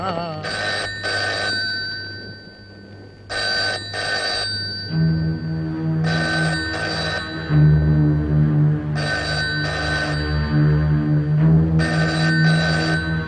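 A telephone rings in repeated double bursts, about five times at a regular pace, over a sustained humming tone, in a Malayalam comedy film scene.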